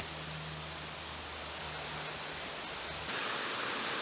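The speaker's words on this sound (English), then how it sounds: "I'm not sure what it is about a waterfall that we all fall in love with" A waterfall at the end of a short hike in North Carolina gives off a continuous, even hiss of rushing water, soft and steady throughout.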